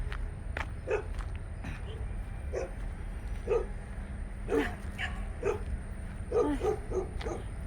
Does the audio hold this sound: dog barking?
yes